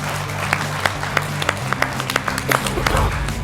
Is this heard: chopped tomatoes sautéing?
no